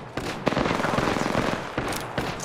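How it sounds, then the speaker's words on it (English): Rapid automatic gunfire in the video game Apex Legends, sustained bursts of shots with a few louder cracks, close and loud throughout with no talking. "Getting shot at."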